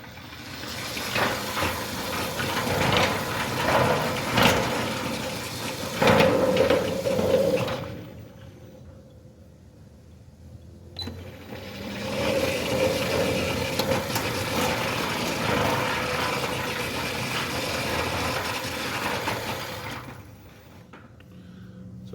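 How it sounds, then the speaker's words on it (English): A Centurion D6 Smart sliding gate motor runs its gate along a steel ground track, a steady rumbling whir with grinding roll noise that carries on for long stretches, dropping off briefly in the middle and again near the end, with no talking. "So I'm going to quickly just run this gate motor, and I'm not going to speak while I'm doing it so that you can hear the noise."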